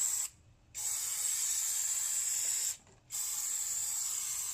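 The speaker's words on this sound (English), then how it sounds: "I use the brake cleaner." Brake cleaner hisses from an aerosol can onto the rear brake of a 2009 Lexus RX350 during a strut and rotor change, long loud spray bursts broken by two brief pauses, close and with no talking.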